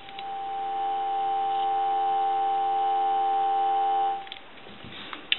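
A dial tone sounds on a 202 rotary telephone with an E1 handset: a continuous, even, layered hum that holds steady for about four seconds and then cuts off, leaving faint handling clicks.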